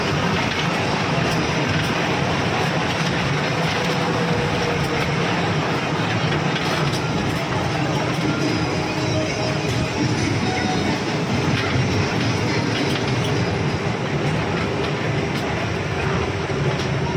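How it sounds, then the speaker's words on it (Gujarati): An amusement park ride train rattles along the track at an adventure park in Tirupati, a loud continuous rumble with rhythmic clatter from the wheels, heard from on board without a break. "તો ટ્રેનમાં અમે બેસી ગયા છે."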